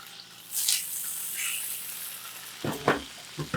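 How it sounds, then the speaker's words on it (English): Ham goes into a hot pan and starts to fry, bringing a sudden hiss that settles into a soft, steady sizzle, followed by a few clattering knocks of utensils near the end. "Let's get our ham cooking."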